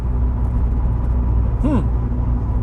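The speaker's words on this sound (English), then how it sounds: "the car's slowing down." Cabin rumble of a barn-find Rover 25 Commerce van slowing down with a sticking brake, a steady low engine drone with a brief rising-falling whine partway through.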